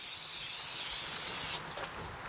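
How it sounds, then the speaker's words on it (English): A close spray hisses steadily for about a second and a half inside a Masterbuilt 140B electric digital smoker, then cuts off abruptly, leaving only faint rustling. "I spray the areas I want to spray twice first"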